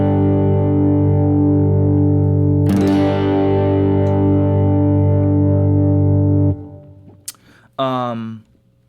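A sustained, compressed electric guitar chord through a compressor, Joyo amp sim and reverb, middle pickup position, rings loud with reverb, then a strum change and a brief gliding note as it fades out.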